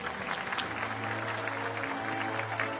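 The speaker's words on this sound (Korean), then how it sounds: "자, 여러분 박수 부탁드리겠습니다." Steady applause from a large audience at a national Liberation Day 80th anniversary ceremony, dense continuous clapping sustained evenly throughout with a faint crowd murmur beneath.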